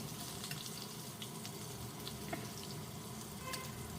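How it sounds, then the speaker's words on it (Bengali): Potato pieces frying in hot oil in a pan, a steady dense sizzle and crackle running throughout with small pops, fairly quiet and unbroken, no voices. "আলুগুলো বেশ লাল লাল করে ভেজে নিয়ে একটু সাইডে সরিয়ে রেখে দেবো"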